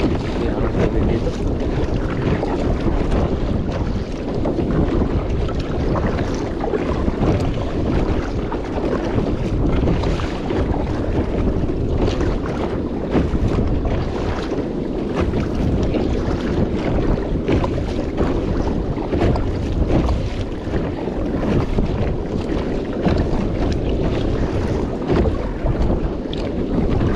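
Steady wind roars and buffets the microphone on a small fishing boat at sea, a loud continuous rush with water and hull noise underneath and no break for the whole stretch.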